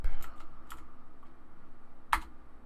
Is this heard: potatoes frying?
no